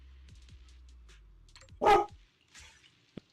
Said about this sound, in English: My dog is angry.